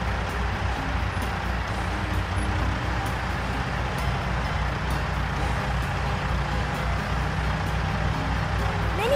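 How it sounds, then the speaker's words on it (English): A log truck drives past with a steady, heavy diesel rumble and road noise, close and continuous throughout, with no clear voices over it. "Log truck."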